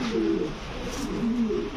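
Andalusian-blood pigeons coo in a low, rolling rhythm, several soft repeated coos close by against steady background noise.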